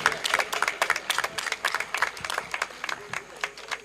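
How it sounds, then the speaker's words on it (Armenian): An audience at an energy-efficiency event in Vayk, Armenia applauds the winners, a dense, steady burst of many hands clapping together for several seconds, fairly close and without talk. "եկեք ծափահարենք մեր բոլոր հաղթողներին"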